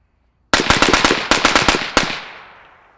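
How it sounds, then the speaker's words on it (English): Suppressed 5.56 rifle wearing a Black Anchor Tactical Nautilus can, fired in a fast string of about ten rounds into a dirt berm: sharp, loud, evenly spaced cracks with a ringing tail that fades after the last shot. "10 rounds into the berm as fast as I can"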